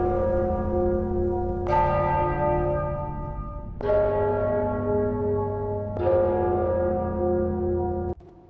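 Deep church-style bells toll in the game Skyrim: Enderal, three strong strikes with long ringing decays overlapping a steady low drone, loud and close with no voices.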